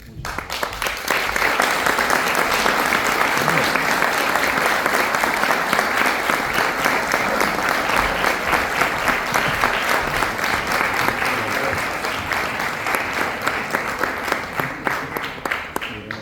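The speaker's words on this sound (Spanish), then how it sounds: "Un aplauso muy fuerte." At an honorary doctorate ceremony in literature at Universidad del Valle, a large audience applauds loudly and steadily for about sixteen seconds, with dense clapping throughout.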